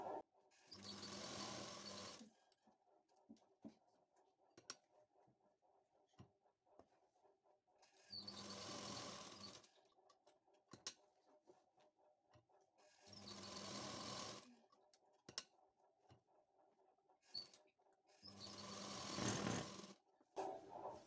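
A sewing machine stitches a kurti in four separate bursts of a few seconds each, with quiet pauses between them. The whirring is close and moderately loud, with a faint steady hum during the gaps.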